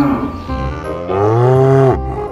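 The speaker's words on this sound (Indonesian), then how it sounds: "Ada sapi." A white and yellow cow gives one long, loud, close moo that rises and swells before cutting off abruptly, with no other voices around it.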